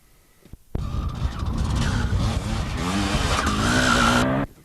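Sidecar enduro motorcycles in the 1994 Powys Enduro championship race through the boggy Trannon ground, engines bursting in loudly after a brief quiet and revving hard with rising, straining pitch for several seconds before cutting off.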